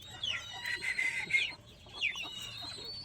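Caged zebra doves kept as breeders, hungry and tame, give soft close calls in a few short bursts, with quiet pauses between them.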